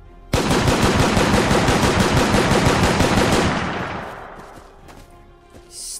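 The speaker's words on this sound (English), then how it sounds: "this is definitely the better machine gun" Machine gun fire in the Mount & Blade Warband Parabellum mod, a loud rapid burst of close shots lasting about three seconds, then fading into echoing reverberation and quieter background noise.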